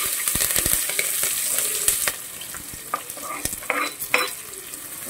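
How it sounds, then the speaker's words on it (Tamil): Chillies, onion and curry leaves sautéing in a pan on a low flame for vegetable biryani, a steady close sizzle with irregular scraping stirs and clicks, no voices. "இதெல்லாம் போட்டு நல்லா நான் வதக்கிக்கிறேன்."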